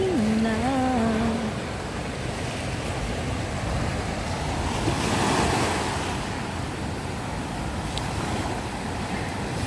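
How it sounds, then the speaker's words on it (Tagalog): Sea waves wash onto the shore at sunrise in a continuous loud surf roar, with wind buffeting the microphone and a brief voice near the start. "At ang linaw ng dagat."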